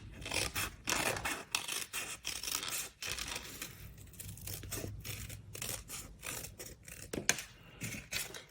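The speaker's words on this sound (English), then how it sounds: "we're just gonna cut with our paper snips along this envelope edge." Paper snips cut along the edge of an envelope in a run of crisp, repeated snipping and rasping strokes, close and fairly loud, with brief pauses between cuts and no talking.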